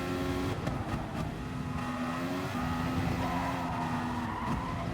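A race car engine in Gran Turismo Sport revs steadily through a close, continuous drone, pitch climbing and dropping as gears shift across eight gears, loud and unbroken throughout.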